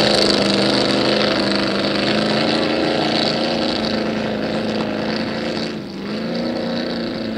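A loud, droning vintage racing flatbottom motorboat engine roars steadily up close during a regatta, dipping briefly before surging again.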